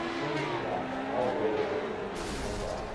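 A race car's engine fails during a heat race, giving a rough, strained engine roar with wavering pitch and a burst of harsh noise near the end, heard at a moderate distance.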